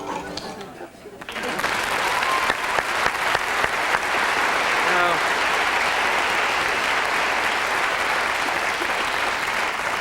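A television talk-show studio audience breaks into loud, sustained clapping and applause that swells after a brief pause and holds steady, dense and close, with voices faintly mixed into the crowd noise.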